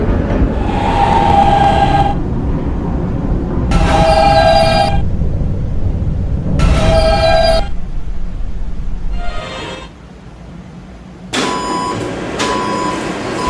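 A D train runs through a Roblox subway game, its loud rumbling drive punctuated by repeated two-tone horn or chime bursts, with a brief quieter lull before the rumble returns.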